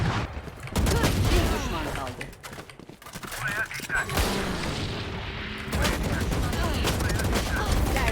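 Rapid bursts of gunfire in a Valorant ranked match, loud overlapping shots coming in clusters with a brief lull in the middle, while players talk over the fighting.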